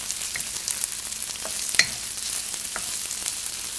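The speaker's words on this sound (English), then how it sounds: "finely sliced medium brown onion to saute. Do this on a medium-high heat." Finely sliced medium brown onion sautés in cooking oil over medium-high heat, giving a soft, even sizzle with occasional light taps and one sharper clink of a utensil, with no speech.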